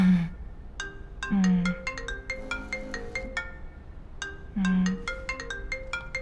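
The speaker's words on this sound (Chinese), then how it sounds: "魏总电话。" A mobile phone rings with an incoming call in a drama scene, playing a bright melodic ringtone whose tinkling phrases repeat twice, clear and fairly loud, with no talk.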